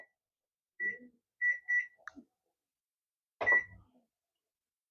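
Kitchen timer being set for five minutes before cooking Ready Wise beef stroganoff, giving a few short, clear electronic beeps in pairs and singles, followed by a brief clatter, in a quiet room.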